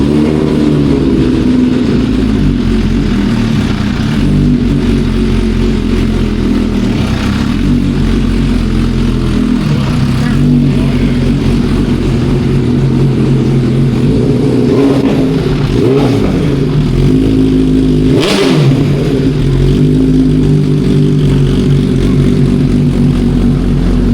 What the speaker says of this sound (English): The exhaust on this is absolutely crazy.